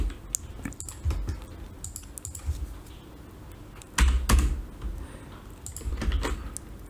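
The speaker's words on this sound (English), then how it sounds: "I'll just type them out here for now." Fingers type on a computer keyboard in uneven bursts of close, crisp key clicks with a few heavier thumps, and no voices.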